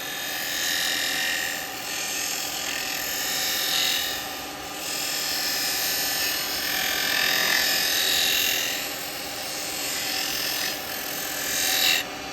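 A woodturning chisel rides the bevel while cutting beads on a spinning lathe, giving a steady close hiss and whir of the machine with swelling bursts of cutting noise as the tool rolls through each bead.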